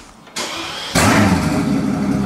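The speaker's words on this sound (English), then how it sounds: "Now we have the downpipes on, and we're gonna get a little startup here." Mercedes S65 AMG with a 6.0-litre V12 and catless downpipes, engine still warm: a starter crank, then a sudden loud catch into a rough, booming idle that holds close and strong.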